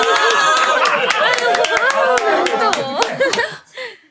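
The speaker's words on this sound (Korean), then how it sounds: "우리의 무사들에게 아낌없이 박수를" An audience in a historical Korean radio drama claps for warriors after a sword demonstration, a lively burst of scattered claps mixed with chuckling, chatter and voices, loud and close, then breaking off abruptly near the end.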